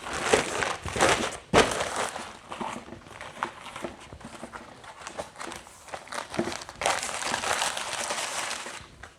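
A Godox LiteWafer UP150R fabric light panel is folded up, giving close crinkly rustling and flapping of fabric with soft handling thumps, in irregular bursts over several seconds.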